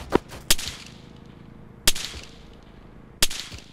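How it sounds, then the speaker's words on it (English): Incoming enemy mortar fire in the ArmA 3 video game, heard as three sharp, loud blasts spaced about 1.4 seconds apart, each with a quick fading tail, over a low background rumble. "Is that enemy mortar you've seen? We just heard a whistle."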